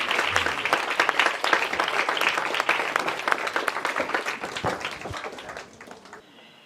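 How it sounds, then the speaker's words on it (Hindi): Applause from an audience at a Hans Raj Mahila Mahavidyalaya college event, dense and sustained at moderate loudness and thinning out toward the end, with no talking over it. "आइए जरा जोरदार तालियों के साथ आज के जितने भी हमने गेटअवेज और टेकअवेज लिए हैं उनके लिए जोरदार तालियों के साथ"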